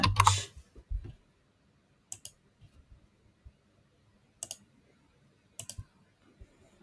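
Sparse computer keyboard keystrokes and mouse clicks come while an entity name is typed into a FetchXML query editor: a dense clatter at the start, then small clustered clicks spread across a quiet room, close and fairly soft.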